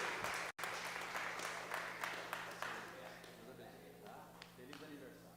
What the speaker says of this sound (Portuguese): Aplauda o Senhor Jesus pela vida dele.